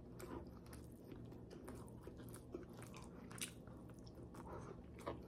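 Grilled broccoli being chewed at a mukbang meal, soft wet bites and crunchy mastication close to the mic, quiet and without talk.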